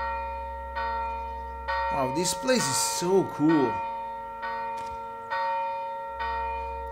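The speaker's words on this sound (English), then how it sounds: "Bells are ringing, huh?" Church bells ring out in a snowy town in the video game Gerda: A Flame in Winter, a sustained metallic peal that rings on as someone speaks briefly over it, then keeps striking in repeated strokes.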